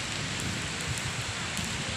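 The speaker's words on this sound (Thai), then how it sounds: "บรรยากาศฝนตก ตรงที่ทำงานเหตุงานมือนี่" Steady rain pours down at a workplace, a dense, even hiss of drops striking surfaces nearby with no pauses.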